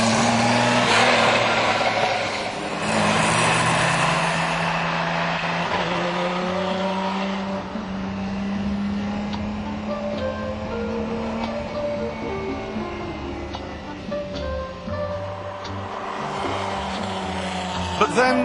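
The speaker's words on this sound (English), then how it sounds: "Driving the Miura today is evocative, nostalgic." A Lamborghini Miura's V12 engine while driving, a strong, steady engine drone with shifting pitch as it accelerates and eases off, with a voice talking over it.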